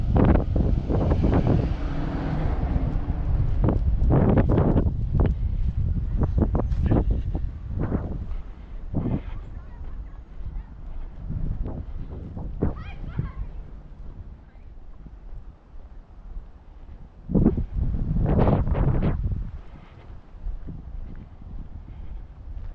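Stiff wind blows outdoors on a woodland walk, buffeting the microphone in loud rushing gusts that ease into quieter stretches before surging again.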